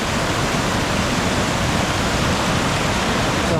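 Rushing mountain creek water in Bair Canyon, a loud, steady broadband roar close by, unbroken from start to finish with no voices over it.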